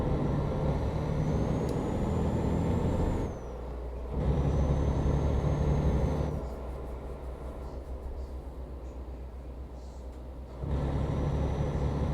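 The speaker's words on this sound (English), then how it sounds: "It's just loud, these trucks." A heavy truck in the TruckersMP driving game rumbles with a loud, steady diesel engine drone, broken by abrupt cuts and shifts in tone, with faint high whistling hiss from air brakes and no talk over it.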